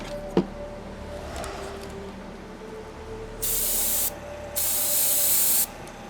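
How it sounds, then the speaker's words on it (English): Black spray paint from an aerosol can hisses onto a Fallout 4 Pip-Boy build in two close, steady bursts of under a second and about a second, after quiet handling noises, with no talking. "I don't need to be spraying that much."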